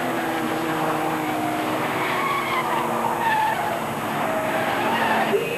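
Porsche race cars at a 1989 Porsche Club GB Championship race skid and squeal through a corner, with long wavering tyre squeals over a continuous engine roar.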